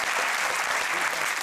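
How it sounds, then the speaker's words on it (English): A studio audience on a British comedy quiz show claps steadily in dense, sustained applause throughout, with no pauses. "Give him a round of applause"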